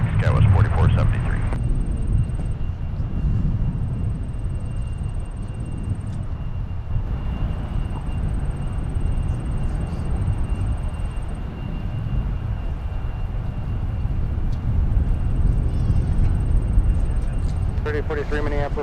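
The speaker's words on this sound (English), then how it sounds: "our next departure will be SkyWest 4063 headed to Memphis" A SkyWest airliner departs Minneapolis airport, its jet roar a steady low rumble heard under radio chatter and talk, with a thin tonal whine running through.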